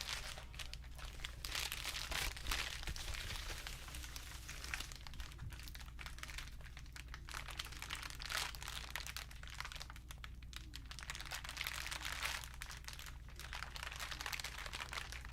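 A large crinkling panel is rustled and crumpled without pause, giving a soft, continuous crackly texture close to the listener, faint over a low steady hum.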